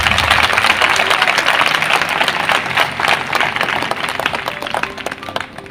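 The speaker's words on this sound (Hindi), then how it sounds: "एक जोरदार ताली यीशु के लिए।" A church congregation claps loudly and steadily for several seconds in a dense, continuous burst of applause filling the hall, with a low hum underneath and some voices mixed in.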